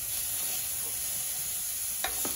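Spinach cooking in frying pans, a soft continuous sizzle under faint stirring, with a couple of brief scraping clatters near the end as it is moved around.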